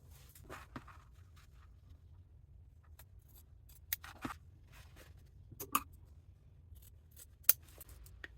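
Scissors trim the lining fabric of a handbag being sewn, giving a few short, crisp snips spread across a quiet stretch, close by with no talking.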